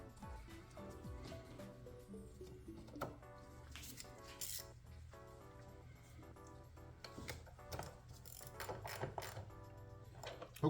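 A ratchet tightening a bolt on the air filter housing of a 2023-2025 Kia Sorento 2.5L GDi gives quick repeated clicks and metallic rattles, close and fairly quiet, with small knocks as the tool shifts.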